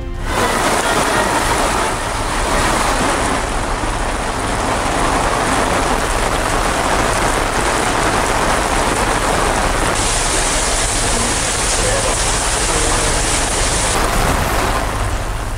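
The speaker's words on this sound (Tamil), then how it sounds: "தமிழ்நாட்டில் பல்வேறு மாவட்டங்களில் வெளுத்து வாங்கும் கோடை மழை." Heavy summer rain falls in Tamil Nadu, a loud, dense, continuous hiss of downpour on surfaces that holds steady throughout with no voices.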